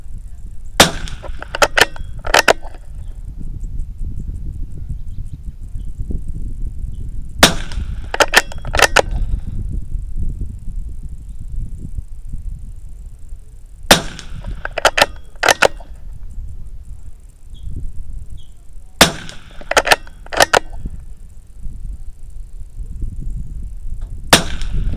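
Pistol shots at a 50-yard CCI match competition, loud sharp cracks fired in tight groups of three to four, with pauses of several seconds between strings over steady outdoor background noise.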